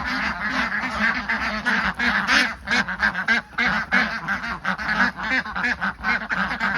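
A flock of laying ducks, Khaki Campbell and Chinese breeds about two months old, quacks loudly at a pen on a duck farm, with dense overlapping calls in rapid irregular bursts close by.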